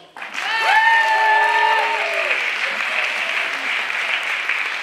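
An audience breaks into loud, sustained applause after a short musical chord, with the clapping continuing strongly to the end.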